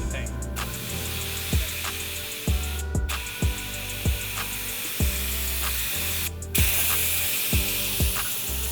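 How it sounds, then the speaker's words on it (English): In a collision repair shop, a spray paint gun applying auto body paint lets out three short hissing bursts over steady rhythmic mechanical tapping in the background. "you pull it all the way back, and you get the paint"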